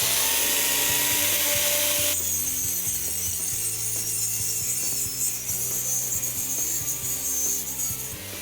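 A Dnipro-M angle grinder with a 125 mm wood disc, mounted on a reinforced sliding stand, cuts through a wooden bar, giving a loud, steady grinding and rasping drone with rhythmic ratcheting pulses throughout.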